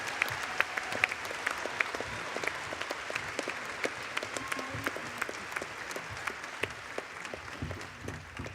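A crowd applauds steadily for students arriving on stage at a youth leadership panel on education, with dense, sustained clapping from a fairly large audience at moderate distance.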